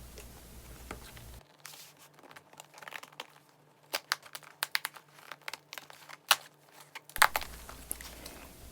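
Plastic IKEA zipper bag handled up close, giving irregular crinkles and crackles with sharper snaps, loudest toward the end, with no talking.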